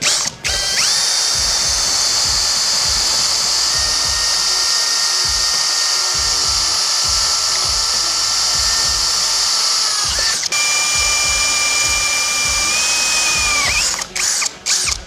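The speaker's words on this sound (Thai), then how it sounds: "เดี๋ยวเรามาทดสอบกันเลยนะครับเจาะเหล็ก 12มิลกับเจ้าตัวสว่านไร้สาย 42 โวลต์" A 42-volt cordless drill whines at high, steady speed as it bores into 12 mm steel, with one brief pause and a few clicks near the end.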